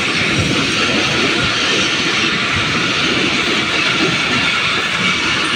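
Pakistan Express roars through at full speed behind a GU40 locomotive, number 9050, a loud, continuous rush of wheels and wind filling the whole stretch without pause.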